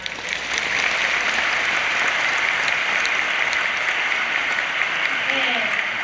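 A large audience applauds steadily after a corporate presentation, the clapping rising quickly and holding as an even, moderately distant wash of hands.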